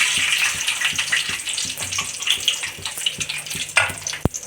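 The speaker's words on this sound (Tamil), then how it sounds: "கடுகு போடுறேன்" Mustard seeds hit hot oil for a village-style dried fish curry, raising a bright hissing fry with faint pops and small knocks, ending in a sharp metallic tap; no talking.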